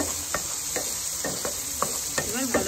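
Kashmiri chilli powder frying directly in hot oil for a Bengali fish curry, a steady close sizzle broken by regular stirring scrapes, with a faint high whine running through.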